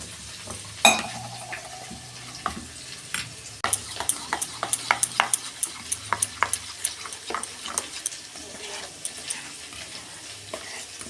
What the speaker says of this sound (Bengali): অল্প আমি জল দিয়ে মশলাটা গুলে নেব।